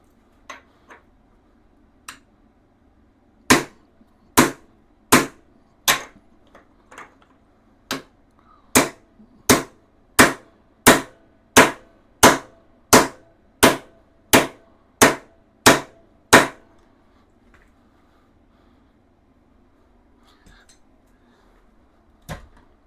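A chrome 1 5/8-inch socket is hammered to drive a steering stem bearing race into a Honda Shadow Sabre 1100 frame, giving about twenty sharp metallic blows in a steady rhythm, loud and close, with short pauses at the start and end.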